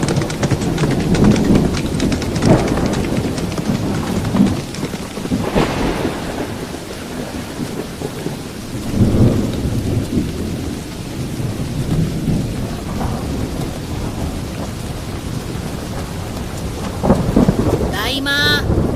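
A stormy night thunderstorm with heavy rain pouring steadily, broken by several loud rumbling thunderclaps spaced through the clip, ending with a sharp crack.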